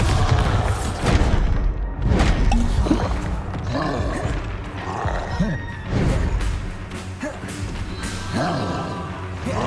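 Loud booming spell blasts from a Hogwarts Legacy duel, heavy explosive thuds and crashes repeating through the fight, layered with combat effects and voices.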